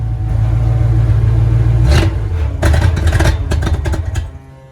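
Old Ford F-series pickup truck engine labouring at a low rumble, then sputtering and clattering through a few uneven revs before dying away, close and loud with no talk over it.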